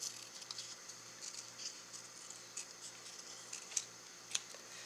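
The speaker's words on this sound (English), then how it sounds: "I'm just trimming this out" Small scissors snip through stamped paper in quiet, irregular clicks and soft cuts, faint and close, with a couple of sharper snips near the end.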